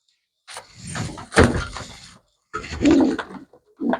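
A male pigeon coos in low, throaty bursts close to the listener, three phrases broken by short gaps, with a knock like a door or cage being handled mixed in.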